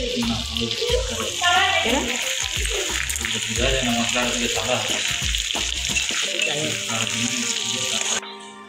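Mutton fries in oil in a wok, a steady sizzle with stirring scrapes running under people talking nearby, stopping abruptly near the end.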